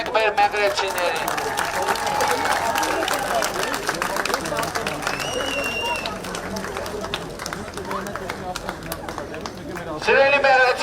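Audience applause and cheering at a public rally, welcoming Meghri residents: a loud, continuous patter of many hands under crowd noise, with someone speaking over it.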